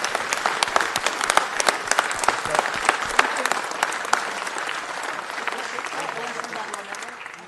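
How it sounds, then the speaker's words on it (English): Applause from the audience at a city council meeting, a full burst of clapping from many hands that slowly fades toward the end. "Let's give them one more round of applause."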